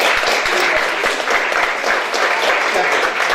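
A crowd applauds two Irish performers at an Irish Night fundraiser, loud sustained clapping with a few sharper nearby claps standing out.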